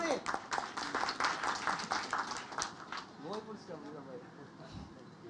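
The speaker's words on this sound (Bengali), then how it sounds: "সবাই একটা হাততালি দিই আমরা।" Audience clapping at a summit award ceremony, a faint burst of hand claps in the first few seconds that fades as talking takes over.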